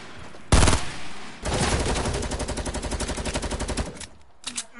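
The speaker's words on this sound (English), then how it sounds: "why are you shooting at us" Gunfire in the Fortnite video game: a single loud burst, then sustained rapid automatic fire in a fast regular rhythm for several seconds, then a few trailing shots.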